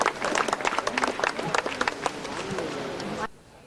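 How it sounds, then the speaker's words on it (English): A crowd applauds guests and the men's and women's World Cup trophies at a Sydney event, brisk lively clapping with a few whoops that carries on for about three seconds and then cuts off abruptly. "A big round of applause for our guests and of course for the trophies"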